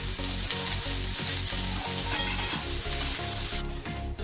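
Onions fry for a vajri masala curry with a loud, continuous sizzle up close, and rhythmic stirring scrapes and knocks of a spatula against the pan mark a steady beat.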